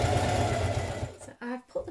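A sewing machine stitches through thick wool coat fabric, a dense close mechanical whirr for just over a second, then stops as a voice begins speaking.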